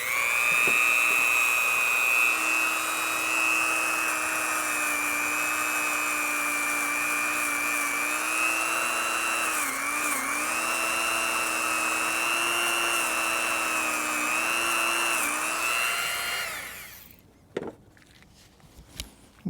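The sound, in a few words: Dremel tool with nylon brush cleaning metal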